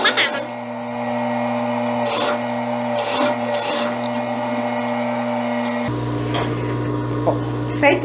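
A sewing machine runs steadily, stitching the back armhole seam of a gypsy-style blouse, its hum continuous and close with slight shifts in pitch and a change in tone near the end.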